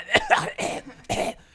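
A man imitates a gagging, coughing cackle: three harsh, throaty bursts in quick succession, close and loud, like a laugh choking into coughs.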